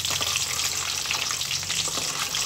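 Chilli bajji (mulaku bajji) frying in hot oil as the pieces are turned, a loud, close, continuous sizzle with brief stirring scrapes and bubbling bursts.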